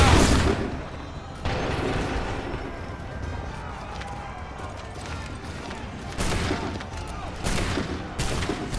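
In Assassin's Creed 3 Remastered on Xbox One, a massed line of muskets fires on command, loud crackling volleys at the start and again near the end over steady battlefield din.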